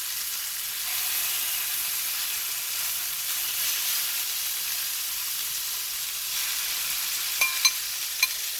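Greek-seasoned chicken fries on a preheated pan on the stove, giving a steady, close, even sizzle with a few small pops near the end and no voices.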